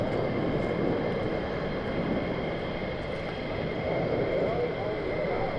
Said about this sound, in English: So 4 more F-35s back.